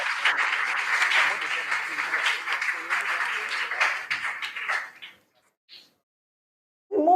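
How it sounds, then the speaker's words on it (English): Audience applause at an international school quiz competition, a dense burst of clapping lasting about five seconds before cutting to near silence, with a brief sound at the very end. "Please give them a round of applause."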